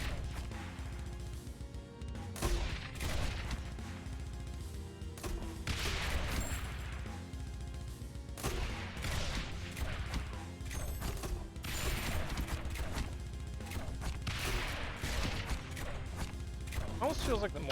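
Mortar towers in the tower-defense game Rogue Tower fire over and over, giving dense, continuous booms and crashes mixed with clanking game effects and a music bed.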